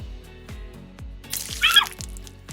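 Water from a cut water balloon pours into a measuring cup in a short splashy gush, set over a steady rhythm of soft low thumps.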